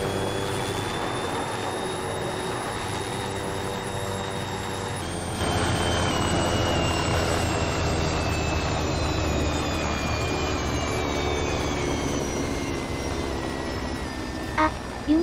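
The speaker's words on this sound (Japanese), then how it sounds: "空からだとよくわからないから着陸してみますね。" An aircraft comes in to land in the video game Arma 3 S.O.G. Prairie Fire, a loud continuous engine roar with a high whine that shifts in pitch and swells partway through, heard alone.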